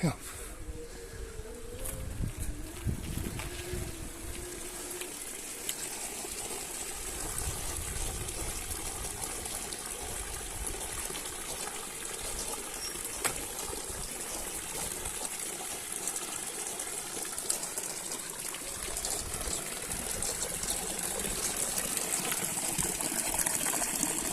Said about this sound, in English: up here we have the what they call a chafariz. It's a fountain or a local place where you get water from